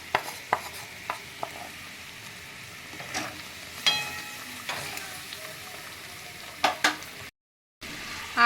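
Capsicums hiss softly in a pan for a paneer curry, with scattered sharp clicks and scrapes of a utensil against the pan and a brief dropout near the end.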